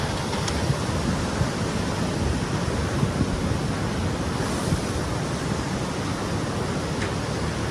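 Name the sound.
tsunami waves and ocean surf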